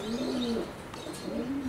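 White racing pigeons coo twice in low, rolling phrases, close and fairly quiet, with no voices over them.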